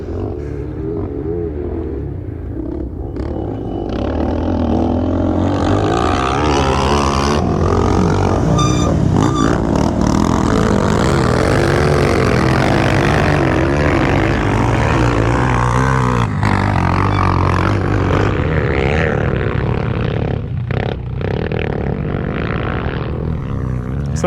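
Dakar Rally cars on a dusty desert course roar in from a distance, the engine noise swelling to a loud, sustained drone as they pass close by and then easing off slightly. No voices are heard.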